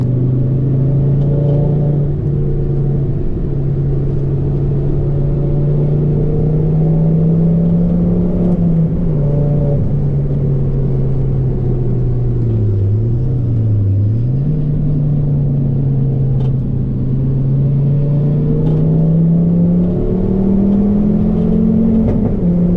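A Ford Focus ST MK2 engine drones steadily on a race track, its pitch sagging and climbing as the driver eases off and gets back on the throttle, loud and continuous with no distinct exhaust pop standing out.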